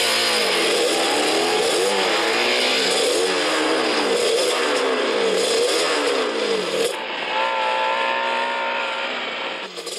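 A car accelerates away at a race start, its engine roaring loudly and continuously with rising and falling pitch sweeps as it works through the gears, easing off slightly toward the end.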